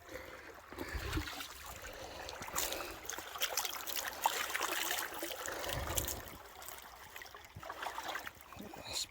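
Water pours steadily through a Gold Rat 8-inch highbanker with a spray bar, washing creek sand at Anderson Creek. The rushing, splashing flow is continuous and close, with no talk.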